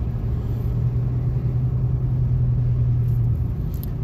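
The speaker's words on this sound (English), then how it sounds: "if you want to just listen to the exhaust, you know, shut the music off" Inside the cab of a Silverado pickup with an LC9 5.3 engine, a Magnaflow 11226 exhaust and a deleted third catalytic converter, a steady, deep exhaust rumble drones while cruising, constant and fairly loud.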